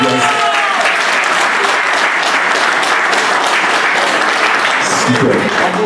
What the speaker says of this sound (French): est-ce qu'on peut applaudir pour l'équipe, s'il vous plaît,